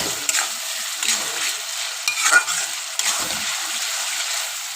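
Spice masala for chicken kofta curry, made with Kashmiri chilli powder and tomato, stir-fried in a pan with steady sizzling and periodic scraping strokes of a spoon, close and fairly loud, with no talking.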